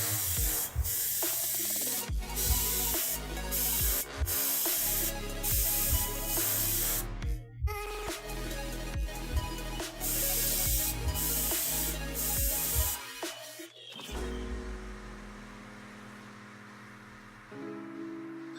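An airbrush sprays paint in bursts of close, loud, breathy hissing, each stopping and starting abruptly, with short pauses between them and a longer, quieter stretch of spray near the end.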